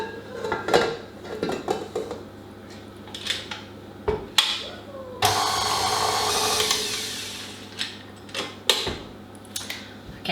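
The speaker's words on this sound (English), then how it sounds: "Now I'm going to get started with my sponge mixture. So I've got my butter here. I'm going to get that mixing." Butter being mixed in a bowl for a coffee and walnut sponge cake, with a burst of electric mixer whirring mid-way between clinks and knocks of utensils against the bowl, close and intermittent.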